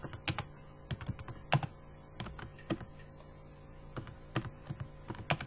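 Computer keyboard typing while writing C++ code, irregular bursts of close key clicks with short pauses over a faint steady hum, no voices.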